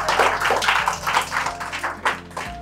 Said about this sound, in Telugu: అలాగే చూస్తున్న ప్రేక్షకులందరికీ కరతాళ ధ్వని ద్వారా మీరు ఒక్కసారి క్లాప్స్